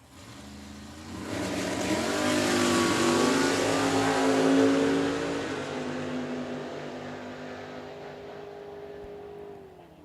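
Drag racing door cars launch down the track at a 2024 Spring Fling event at Galot. A roar swells over a couple of seconds into a loud, harsh blast, then slowly fades with a falling tone as the cars pull away.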